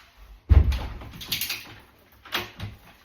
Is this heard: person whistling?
no